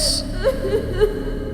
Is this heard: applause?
no